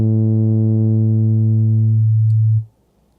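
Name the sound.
modulated sine wave oscillator in Reason 10 Grain synthesizer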